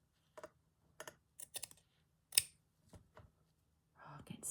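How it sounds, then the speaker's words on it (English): Scissors snip embroidery threads on a redwork journal cover, a handful of quiet, crisp clicks and snips spaced unevenly, close up in a quiet room, ending with a soft rustle. "I'm going to be efficient and snip them all in one go."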